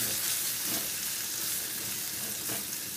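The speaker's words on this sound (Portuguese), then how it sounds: "Aí aqui eu vou começar fritando logo o bacon." Bacon and thin calabresa sausage fry in a pan with a steady, dense, close sizzle and faint stirring underneath; no one speaks.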